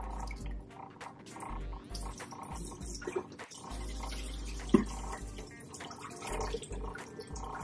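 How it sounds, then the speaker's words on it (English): Water dumped out of a film developing tank during home color film processing, a steady, fairly faint rush and splash of pouring liquid over a low hum. "I'm gonna go ahead and dump out the water."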